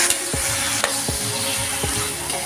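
Native chicken sizzles steadily in a pan while being cooked for adobo, with stirring scrapes at intervals. The sound is close and continuous, with no talking.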